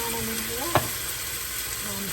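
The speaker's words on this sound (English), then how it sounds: "So I'm adding a can of diced tomatoes." A can of diced tomatoes lands in a hot pan and sizzles, with one short thump as they go in, then quiet, steady frying.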